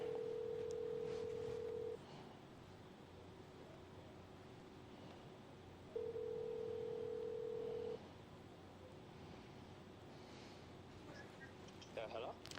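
Telephone dialing for a live call-in on a television program: two long steady tones, one at the start and another a few seconds later, over a constant broadband hiss.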